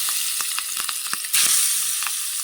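Fish frying in hot oil gives a steady broadband sizzle with scattered crackles, growing louder and fuller partway through as more pieces go into the pan.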